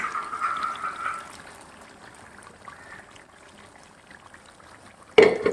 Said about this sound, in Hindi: थोड़ा सा पानी डाल के बाकी का मसाला भी डाल दूंगी